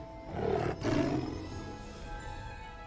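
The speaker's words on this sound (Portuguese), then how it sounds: "Ah, foi um leão." A lion roars loudly in Hogwarts Legacy, two big overlapping bursts in quick succession that fade into a low ambient rumble, with no voices over it.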